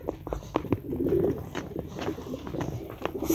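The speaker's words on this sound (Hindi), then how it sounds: "एक और कबूतर भी है।" Pigeons at a fancy pigeon farm cooing repeatedly in low, close throaty calls, with faint chirps and background bird noise throughout.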